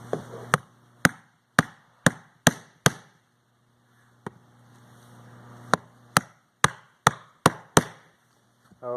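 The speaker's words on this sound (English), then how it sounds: "using a block and a light hammer, you're going to be tapping those pins so they're snug" A light hammer striking a block to tap pins snug during a USB port swap on a 7550 power unit: a series of sharp, evenly spaced taps in two bursts separated by a short pause, close and crisp over a low hum.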